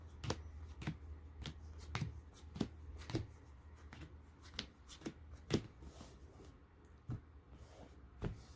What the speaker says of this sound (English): and shuffle your opponent's deck.